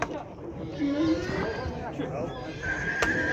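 Horse whinnying at a busy Kyzylorda livestock market, a loud rising neigh near the start over a crowd's babble and nearby talk, with hoof clops and a later sharp high tone.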